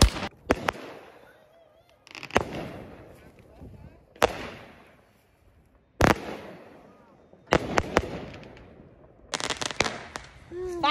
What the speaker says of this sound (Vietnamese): Pháo của nhà mình đây.